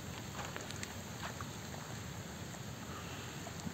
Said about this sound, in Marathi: चला आता मी पाऊस पडतोय आणि मी पावसात भिजतोय.